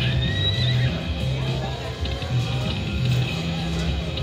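A horse neigh sound effect from the Horsepower slot machine game rings out over steady, looping electronic game tones, with a short whinny near the start and the chiming machine music continuing throughout.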